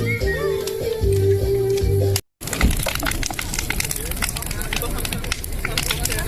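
A bonfire burns with steady roaring crackle and snapping embers close by, mixed with loud outdoor chatter and people calling out, broken by a brief dropout partway through.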